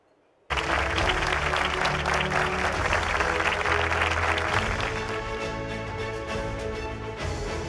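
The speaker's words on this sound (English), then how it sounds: "Let's have a huge round of applause for all the winners" Sudden burst of sustained applause from a large audience at a healthcare awards ceremony, steady clapping that slowly tapers off.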